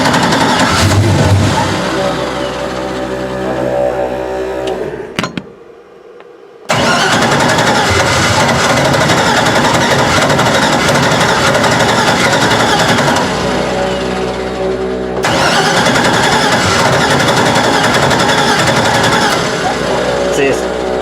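A car engine with a self-inflicted oil pressure problem cranks, catches and runs loud and close, cuts out briefly, then restarts and keeps running rough and steady, with a voice talking over it.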